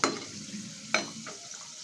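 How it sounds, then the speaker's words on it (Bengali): Laddus of semolina and gram flour sizzling and crackling in hot oil, a steady frying hiss with a couple of sharper scrapes from stirring. "আর একটা ভাজা হচ্ছে"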